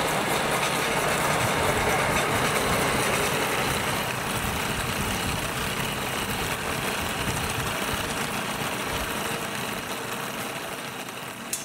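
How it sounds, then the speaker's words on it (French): A motorized corn grain grinding mill runs at full tilt, producing a loud, steady mechanical drone with a rough, engine-like rumble that holds unbroken for the whole twelve seconds. "La meuleuse de grains de maïs est en pleine action."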